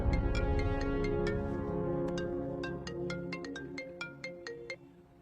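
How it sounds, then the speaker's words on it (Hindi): A movie phone rings with an incoming call: a melodic electronic ringtone plays a rhythmic sequence of bright chiming notes, loud and clear, fading out toward the end. "बिम्बी, तुम्हारे लिए कॉल है।"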